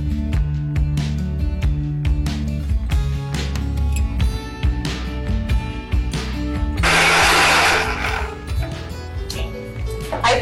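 A mixer grinder grinds cooled ingredients into a paste with loud whirring bursts and clattering, starting and stopping in pulses. One stretch of steady, harsher grinding runs in the middle, and there is no clear speech.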